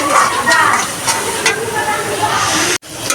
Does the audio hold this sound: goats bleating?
no